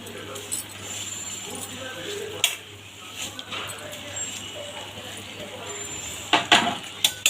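Roasted vermicelli being stirred into boiling water in a pot for semiya upma, soft scraping and clinks of a spoon against the pan over a bubbling background, with someone talking throughout.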